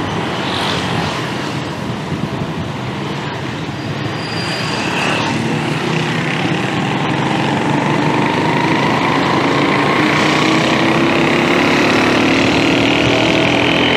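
A motorcycle taxi engine in Angola drones steadily and close throughout the ride, its pitch slowly rising as it gains speed, with no talking.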